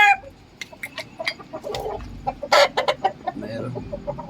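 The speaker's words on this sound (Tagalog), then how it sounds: "Silipin natin yung ating manok." Chickens on a Philippine backyard farm cluck in a steady run of short calls, fairly close, with one louder squawk partway through and a low outdoor hum beneath; no one talks.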